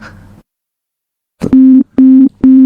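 Phone call disconnect tone after a hang-up: a brief snatch of sound, a moment of silence, then three loud, steady, repeated beeps with short gaps between them.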